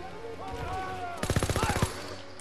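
Automatic gunfire in the Call of Duty WWII video game, a quick burst of about ten sharp shots in a rapid even rhythm, coming after a short stretch of game ambience.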